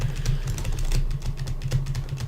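Rapid, steady clatter of computer keyboard keys being hammered during a Spore gaming session, close and continuous with no talking.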